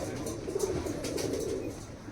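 A pigeon in a loft coos in a low, throaty rolling murmur, fairly close and continuous, over a soft background hiss.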